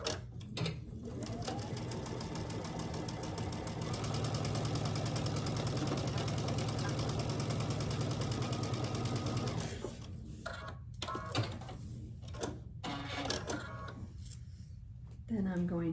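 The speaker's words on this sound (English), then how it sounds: "Take it to the sewing machine and stitch it down." A sewing machine stitching quilt block fabric, a loud steady mechanical whir running for about ten seconds, then stopping, followed by a few clicks and handling sounds; someone speaks over part of it.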